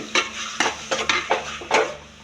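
Marinated masala mutton is roasted and stirred in a pan for Kolhapuri sukkha mutton, with rhythmic scraping stirs and clinks over a soft sizzle, repeating about five or six times.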